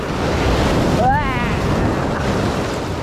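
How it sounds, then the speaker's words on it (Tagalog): Loud, continuous roar of surf and wind, with a brief voice rising over the crashing water near the middle. "Grabe, ang lakas ng alon."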